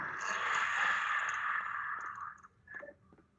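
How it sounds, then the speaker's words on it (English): A deep breath drawn in and let out during a guided kindful breathing exercise, a close, steady rush of air lasting a couple of seconds before trailing off into softer breathy puffs. "we take a deep breath, breathe in. Then we breathe out"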